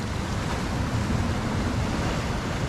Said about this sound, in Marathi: आणि समुद्राची लाटाचा आवाज असं ना एक नंबर असा कानाक सुकून भेटतं